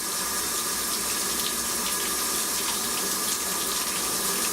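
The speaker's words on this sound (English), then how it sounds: "Filling all the boxes up with water." A water hose rinses mud out of the chassis boxes of an Iveco Daily van, a loud, steady gushing spray that holds constant throughout without pause or talking.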